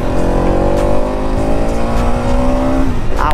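A Bajaj NS200 motorcycle engine, BS7 model, revs loudly and close up, its pitch climbing steadily through a long sustained pull before dropping off at the end.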